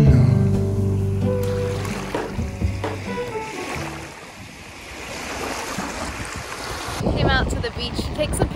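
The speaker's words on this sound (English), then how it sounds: "It is incredibly windy right now." Strong wind in Key West roars and buffets the microphone in loud, rushing gusts, rising and falling like surf throughout.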